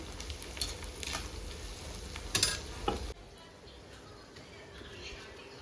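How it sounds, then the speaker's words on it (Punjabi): Chopped green chilies sizzle steadily in hot tempering oil for Punjabi kadhi, with a couple of sharp spoon clinks partway through before the frying settles to a quieter hiss. "ਇੱਧਰ ਲੱਗ ਗਿਆ ਸਾਡਾ ਤੜਕਾ ਹੁਣ ਆਪਾਂ ਪਾ ਦਾਂਗੇ ਇਹਦੇ ਵਿੱਚ ਕੱਟੀਆਂ ਹੋਈਆਂ ਆਪਾਂ ਹਰੀਆਂ ਮਿਰਚਾਂ"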